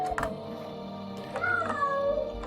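Hermes, a pet cat searching for another cat, lets out a couple of forlorn rising meows, close and fairly clear, against a low steady background hum.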